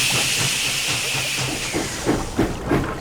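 Steady loud hiss of escaping steam from Percy, a small steam engine struggling through rising floodwater, with faint rhythmic chuffing and clanks building toward the end.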